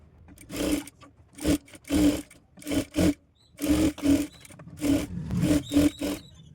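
A sewing machine stitches all around the neck of a diamond-neck princess blouse, running in short bursts with brief pauses between, close and fairly loud with no talking.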